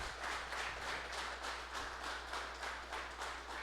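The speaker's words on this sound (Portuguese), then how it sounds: "Mais uma vez, vamos aplaudir Jesus aí pela vida do Dene." Church audience applauding together, a steady broadband wash of clapping with gentle surges, moderately loud and continuous, no voices over it.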